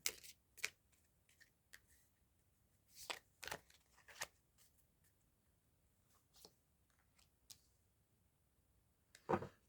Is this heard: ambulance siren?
no